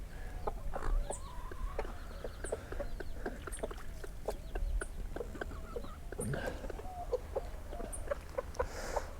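Several hens and chicks cluck and murmur close by on a tropical homestead in quick, irregular bursts against a low background rumble.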